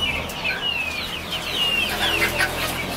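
Chickens about three months old on a poultry farm cluck steadily and overlap, with thin high calls rising above a dense, close flock murmur.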